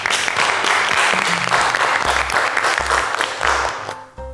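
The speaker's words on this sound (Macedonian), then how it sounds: "голем аплауз." A studio audience on a cooking show applauds loudly and steadily, the clapping running for several seconds with some low thumps mixed in before it tapers off at the end.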